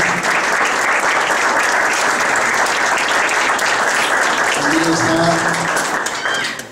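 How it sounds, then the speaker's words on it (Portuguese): A church congregation claps in welcome for a visiting apostle, a dense, continuous round of applause that fades slightly at the end, with a faint voice briefly audible underneath. "El apóstol Edson Reda, que vamos a darle un aplauso de bienvenida."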